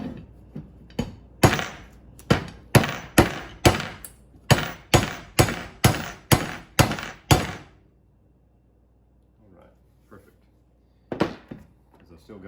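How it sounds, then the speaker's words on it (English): A hammer strikes the base plate of a Minn Kota trolling motor in a run of about fifteen sharp, close knocks at a quickening steady beat. A short quiet gap with faint handling noises follows, then a few more knocks. "Grab my hammer."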